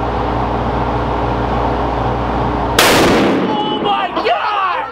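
.50 caliber gun firing a single thunderous shot partway through, an abrupt, very loud blast with a long echoing tail over constant outdoor rumble, followed by excited voices.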